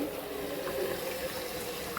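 Water from a pipe tap runs in a steady, continuous stream at moderate level, a soft hiss and splash with no talk over it.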